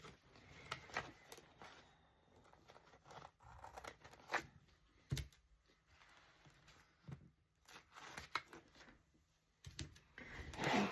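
Scissors trim strips of washi tape in a quiet room, producing sparse, faint snips and small paper-handling rustles spaced irregularly across the stretch, with no one speaking.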